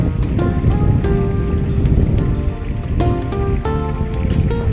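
A garden pond waterfall runs as water pumped from the bottom pit pours into the pond, a loud, steady splashing rush with scattered bright drips and gurgles, close by.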